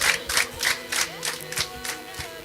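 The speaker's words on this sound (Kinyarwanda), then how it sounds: "ibi byiza mubiha amashyi" A crowd at an outdoor gathering claps in unison with a regular beat, its rhythmic bursts mixed with cheering voices at moderate distance.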